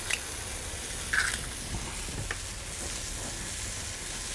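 Eggs fry in a hot pan with chorizo, a steady, fairly loud sizzle and hiss throughout, with a few faint spatters and pops.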